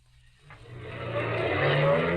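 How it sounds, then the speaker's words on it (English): A car speeds past on a road at night, its engine rising from near silence to a loud, sustained roar that holds as it whips by. "Maxton's car whipped by."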